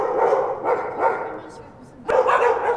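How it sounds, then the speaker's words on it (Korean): Dozens of dogs barking at once inside a single house in a residential area of Gangseo-gu, Seoul, producing a dense, overlapping chorus of barks and yips that swells and then bursts loud again, with a voice speaking over it. "개 한 마리가 소리를 내자 갑자기 여러 마리의 개들이 동시에 짖어댑니다"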